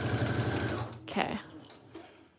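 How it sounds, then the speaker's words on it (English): A sewing machine stitching around the edge of a cereal box journal covered in fabric, a fast steady whirring buzz that stops partway through, followed by brief handling clatter. "I'm just sewing all the way around just because I had it up here."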